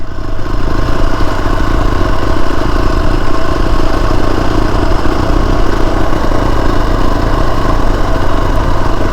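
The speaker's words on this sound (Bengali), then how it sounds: "আর আমরা এখানে বাইক চালাচ্ছি।" A motorcycle engine idling near the beach at Shankarpur, a loud, close, steady mechanical drone with even rhythmic pulsing and no talking.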